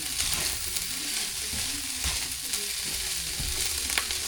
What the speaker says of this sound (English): You hear that popping like that? That's how you make it. That's how you make fried rice.